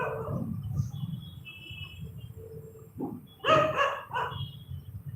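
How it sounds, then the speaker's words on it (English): Dogs bark in a short burst of a few sharp, yipping barks at moderate distance, standing out over a quiet background with some low murmuring earlier. "some doggies are just barking on me"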